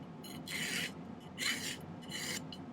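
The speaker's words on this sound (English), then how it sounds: "We'll file them a bit." A hand file rasps across small silver earring pieces in three short, close strokes, a soft dry scraping over a quiet background.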